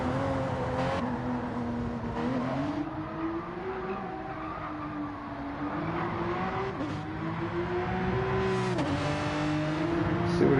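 A race car's engine drones steadily through an onboard lap, pitch rising and falling with throttle and dipping under braking into corners, loud and continuous with a faint tire squeal.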